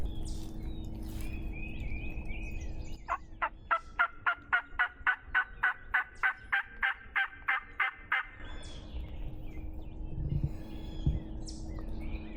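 Wild turkeys gobble on a West Virginia hillside edge, a rapid train of about sixteen sharp, rhythmic calls lasting roughly five seconds, moderately near and clear over faint outdoor background, with no talking.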